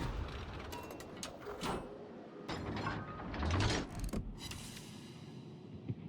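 Mechanical clicking and ratcheting of steering gears on the cruiser New York in World of Warships, a busy run of gear-like clatter and whirring alongside game noise, with no speech.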